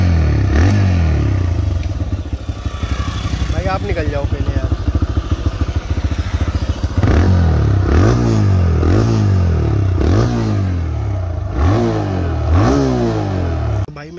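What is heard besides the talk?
motorcycle engine revving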